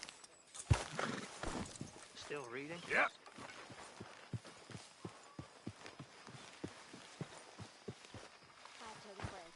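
Horse hooves clip-clop in Red Dead Redemption 2, a steady walking rhythm of light knocks running through most of the stretch beneath people talking.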